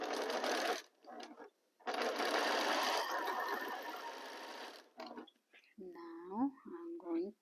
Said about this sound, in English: align my 2 sections and start sewing